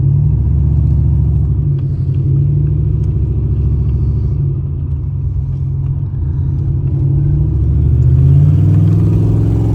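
A 1983 Hurst Olds engine drones steadily while the car cruises down the road, a loud, close low rumble with mild swells as it pulls along, and no talking.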